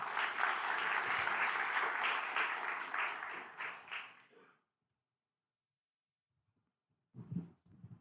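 Applause at a city council meeting, a dense round of clapping that tapers off after about four seconds into silence, then a brief noise at the end.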